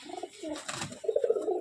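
Low, rolling coos come from a male pigeon of a closed-tail breed, a near and steady murmur that pulses more quickly toward the end.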